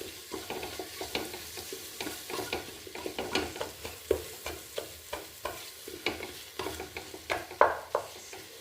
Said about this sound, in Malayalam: ഇതിന് നന്നായിട്ടൊന്ന് ഇളക്കുക